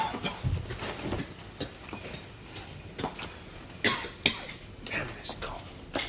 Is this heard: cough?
yes